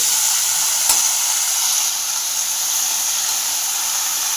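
Fenugreek leaves (methi) with plenty of garlic sautéing in a pan over lowered gas, giving a steady, close hiss of sizzling with one brief clink of stirring.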